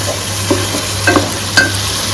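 Chicken being stir-fried for chicken rara, a steady close sizzle with a few sharp spatula scrapes against the pan and a constant low hum underneath.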